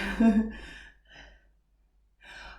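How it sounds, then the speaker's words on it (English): Slow, heavy breaths rasp in and out close by, a dog snoring in a couple of drawn-out pulls with quiet pauses between. "If you can hear the snoring, it's my dog,"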